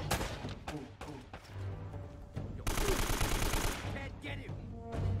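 Gunfire in the video game Uncharted: Drake's Fortune, with close rapid automatic bursts and heavy shots among game sound effects, and a brief intense volley partway through.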